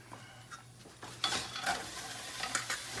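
Cabbage fried in grease in a pan crackles with a close sizzle, broken by a few scraping stirs and utensil knocks against the pan.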